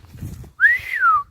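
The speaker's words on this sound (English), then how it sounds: "Excuse me whistling." A person whistles once to call a dog outdoors near ducks, a single loud rising-then-falling tone lasting under a second, with faint murmur beforehand.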